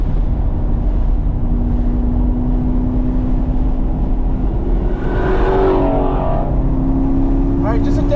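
Race cars circle the Burt Brothers Motorpark East Track in a busy session, an engine droning loud and close from inside the car while other cars rise and pass by.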